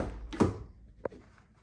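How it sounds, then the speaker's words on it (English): A 2017 Chevy Bolt car door shutting with one solid thunk, followed about half a second later by a fainter secondary click, heard close up in a quiet space. "I'll close the door and do it one more time."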